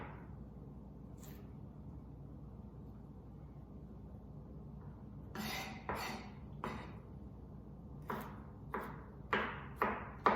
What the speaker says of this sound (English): So we're mincing our garlic right now.